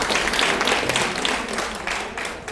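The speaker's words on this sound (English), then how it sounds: "Give her a big round of applause" Audience applause at a Women in Rotary event, a dense wash of clapping hands that fills the room evenly, then slowly thins and softens toward the end.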